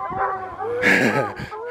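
A dog lets out a short bark and a yelping whine, close by, over a brief moment of background noise.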